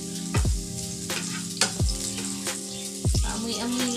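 Garlic and ginger sauté in hot oil with a close sizzle, broken every second or so by heavy knocks and clatters from a utensil against the pan.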